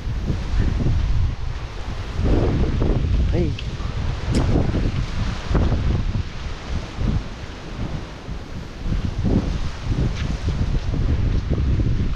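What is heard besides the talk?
strong typhoon wind on a farm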